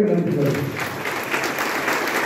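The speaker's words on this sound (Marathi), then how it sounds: "सर्वांनी टाळ्या वाजवण्याची विनंती करतो" Audience clapping at a community event where household kits are handed out to construction workers, a short burst of applause with speech-like sound mixed in, ending abruptly.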